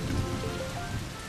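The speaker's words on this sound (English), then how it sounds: "It's raining in the playground." Steady rain patters on a surface, a dense hiss of drops with a low rumble underneath, continuous and fairly close.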